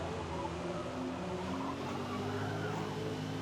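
Tires squeal as a 1975 BMW 3.0 CSL race car turns at the Nürburgring in Forza Motorsport, a steady loud screech over engine drone.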